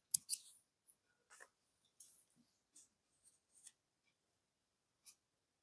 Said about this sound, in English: before this I'm going to cut this tail off